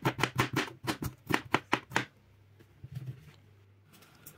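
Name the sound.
chopping potato, tomato and garlic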